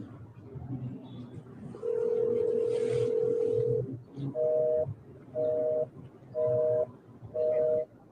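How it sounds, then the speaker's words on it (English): A phone call plays a single long ringback tone, then a steady run of short, evenly spaced busy-signal beeps, with low background murmur beneath. "What does it mean when you call someone, it ring and then it go busy?"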